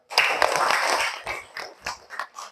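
A class of schoolchildren clapping their hands together, starting as a dense burst of many claps and then thinning into a few scattered, separate claps toward the end.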